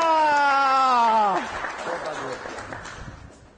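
A studio audience breaks into applause for Carlos Correia on an afternoon television show, the clapping swelling after a brief musical sting and then settling into a steady, moderately loud wash of hands.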